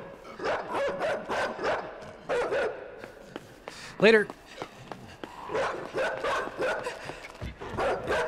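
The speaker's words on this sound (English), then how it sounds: "Ah, it's a dog." A dog barks in the INSIDE video game, a short sharp yelp or bark cutting in once amid a player's near, steady talking.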